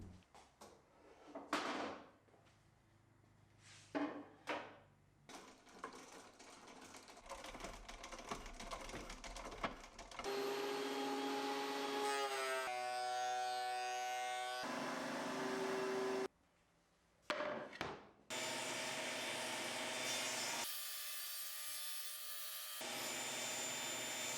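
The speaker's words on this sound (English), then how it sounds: "I ran the top through the planer and then cut it down to its final dimension." Wooden tabletop for a floating nightstand fed through a planer and then cut to size: short knocks and handling sounds, then a loud whining machine roar with shifting pitch, a brief pause, and more sustained cutting noise.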